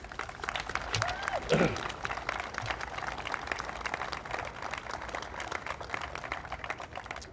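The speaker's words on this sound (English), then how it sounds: "I'd like to have those guys get a round of applause for all their work." Crowd applauding at an outdoor ribbon cutting for Jacobson Plaza, a sustained round of clapping from a gathered audience, moderately near, with some voices mixed in.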